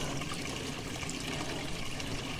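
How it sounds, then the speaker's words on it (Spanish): Spring water runs steadily from the three spouts of a restored stone public fountain in a Spanish village, a dense continuous splashing and gurgling with no voices. "Pues aquí hemos encontrado otra fuente con agua de manantial."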